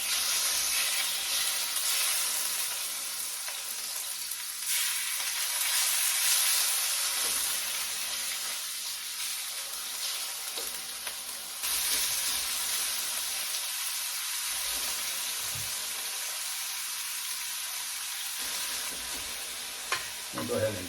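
Bulgogi beef sizzles and fries steadily in a hot pan, a continuous loud crackle that runs the whole time, rising and easing as the meat is stirred, with no voices.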